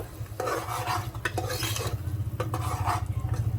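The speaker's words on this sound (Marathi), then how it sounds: "आता मसाल्याला आपण चांगल्यापैकी भाजून घेऊया." Spice masala for a Maharashtrian mutton rasa roasts in a pan, with a continuous close frying hiss, a low steady hum underneath and repeated rasping strokes of a spoon stirring and scraping the mixture.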